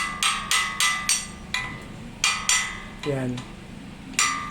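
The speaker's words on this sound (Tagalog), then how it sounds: "Pukpukin lang yan hanggang matanggal." Hammer and chisel strike a pelletizer machine's grinding disc to knock it loose, ringing metallic blows landing in a steady, uneven rhythm, close and sharp, with a brief voice between hits.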